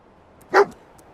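Dogmeat, the dog companion in Fallout 4, gives a single short, sharp bark close by against near silence.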